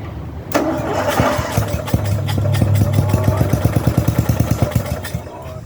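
A riding mower engine cranks and catches, sputtering and coughing unevenly as it struggles to keep running, then settles into a rapid, stumbling chug that fades at the end.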